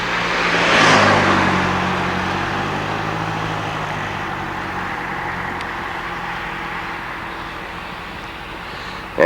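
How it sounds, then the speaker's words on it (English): Fast road traffic passes a rural driveway, with a near vehicle swelling into a loud whoosh early on before a steady rushing road noise carries on and slowly eases, with no talk. "Some of the fast traffic going by."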